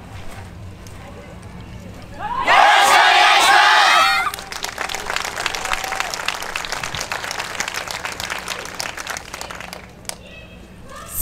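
A crowd at the Kyoto Sakura Yosakoi street stage on Jingu-michi bursts into loud clapping and cheering for a student yosakoi dance team, a roar that settles into steady rhythmic hand-clapping before fading.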